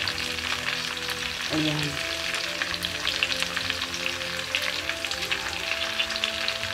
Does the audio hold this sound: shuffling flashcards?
no